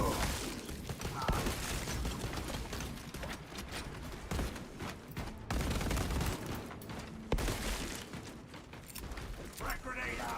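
Sustained automatic gunfire and bursts in a video game horde mode, a dense, busy barrage with clattering impacts throughout, under occasional talking voices.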